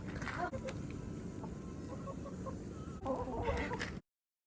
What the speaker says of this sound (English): Right now I'm hanging with the chickens.